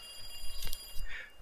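A telephone rings in a visual novel, a short electronic bell-like trill that sounds once or twice in quick succession, fairly clear against a quiet background.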